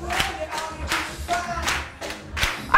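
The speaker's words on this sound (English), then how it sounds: "And clap." An audience clapping and thumping in uneven bursts during an energetic group movement exercise, several loud rounds of close claps with rustle between them and no talk.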